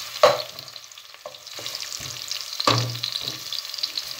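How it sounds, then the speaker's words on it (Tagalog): Onions and ginger fry in a pan with a soft sizzle, broken by a few sharp clanks and scrapes of a utensil stirring, close by and without speech. "Hintayin natin yung mag-golden brown yung mga ilagay kong sibuyas saka luya."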